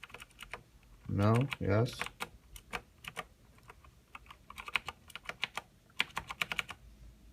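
Keys clacking on a Razer BlackWidow mechanical keyboard, close and crisp, in scattered bursts of quick taps and short pauses, with someone briefly speaking near the start.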